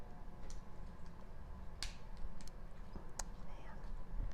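Battery lid of a GoPro Media Mod snapping shut, heard as two small, sharp clicks at close range, a second or so apart, over faint background hiss.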